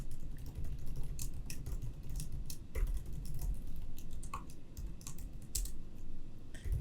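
Code is typed on a computer keyboard in a quick, continuous patter of light clicks and taps, close by, over a constant low rumble of background noise.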